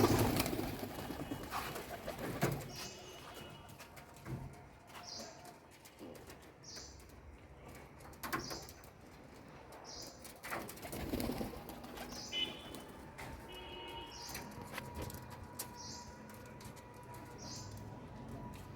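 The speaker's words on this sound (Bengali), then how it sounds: "এগুলো হচ্ছে দেশি কবুতর, আর এটা হচ্ছে জালালি কবুতর।" Deshi and Jalali pigeons in a home loft give soft repeated coos at a regular pace, close by, with occasional wing flaps and rustling between calls.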